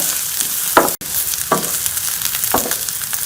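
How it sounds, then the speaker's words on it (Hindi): Green chillies and onions fry in a pan with a steady sizzle and a few short scraping stirs, close and fairly loud, with no talk. "हरी मिर्चों को और प्याज को 1 से 2 मिनट के लिए सॉफ्ट कर लेंगे।"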